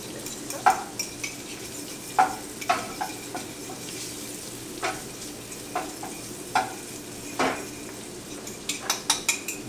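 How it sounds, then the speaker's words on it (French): A utensil clinks against a bowl while two egg yolks are whisked for carbonara. The sharp, irregular taps and scrapes come close up, with short bursts speeding into quick clusters toward the end, over a faint kitchen background. "Moi, je mélange deux jaunes d'œufs."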